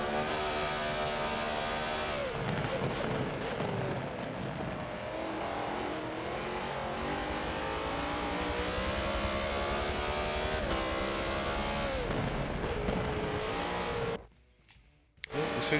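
BMW Z4 GTE race cars in a sim racing game at the Nürburgring GP circuit, with engines screaming and shifting pitch as they accelerate and brake through the laps, loud and continuous until a brief dropout near the end.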